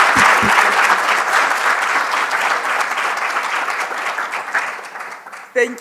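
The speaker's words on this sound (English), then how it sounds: "can you please give her a big round of applause for the great work she's doing?" An audience at an academic symposium gives a loud, sustained round of applause that slowly thins and fades near the end, followed by a brief thump.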